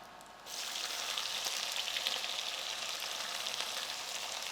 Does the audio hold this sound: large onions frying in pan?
yes